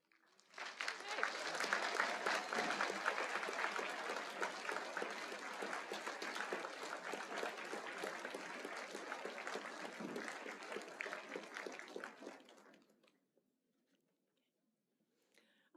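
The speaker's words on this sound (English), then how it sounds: "please stand up so we can honor you with a round of applause" Sustained applause from a commencement audience honoring the Golden Agers class, swelling quickly and holding strong for about twelve seconds before fading into silence.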